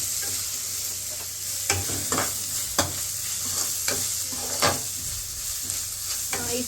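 Vegetables sizzle in a hot pan with salt added, a steady frying hiss broken by several sharp scrapes and clacks of stirring spaced a second or so apart, close and clear with no talk.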